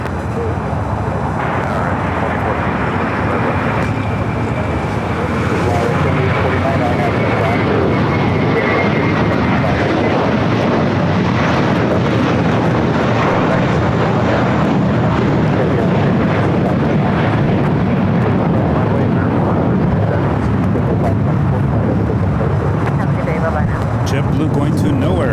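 A JetBlue airliner departs LAX, its jet engines a loud continuous roar holding steady throughout, with no talk.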